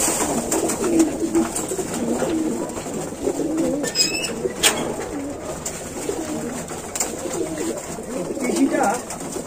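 Pigeons coo softly and steadily in a loft, their low murmuring continuous behind someone talking nearby.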